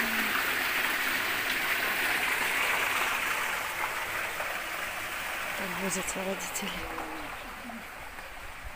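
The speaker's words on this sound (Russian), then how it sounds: "Вода, видите, как поступает?" Water flows steadily into a vegetable garden, a broad rushing wash like a small stream that eases slightly over time while someone talks over it.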